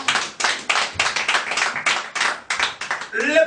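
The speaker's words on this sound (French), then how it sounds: "Qu'on acclame très fort pour la parole." Congregation in a church service clapping in a steady, loud burst of applause, many hands close together, with a brief voice near the end.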